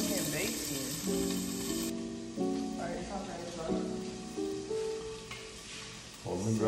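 Bacon frying in a pan, a steady close hiss and crackle running throughout beneath a tonal melody and voices talking over it.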